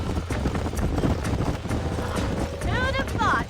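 Horse hooves clip-clop in Red Dead Redemption, a busy, continuous patter of steps in an outdoor scene, with a short whinny-like call near the end and some faint speech in the mix.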